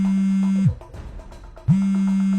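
A mobile phone goes off inside a bag with a loud, steady, low buzzing tone that cuts out for about a second and then resumes.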